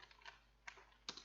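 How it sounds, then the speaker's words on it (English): A computer keyboard gives a few faint, quiet keystroke clicks in irregular bursts, heard alone in a still room. "This is me typing at the moment,"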